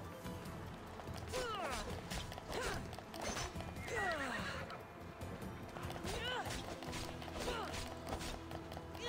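Horse whinnies rise and fall several times over steady hoofbeats and clatter in the video game Assassin's Creed: Odyssey, with a voice talking now and then.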